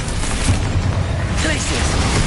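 Confringo fire spell exploding in Hogwarts Legacy, a dense rumbling burst of booms and crackle with a voice shouting over the blast.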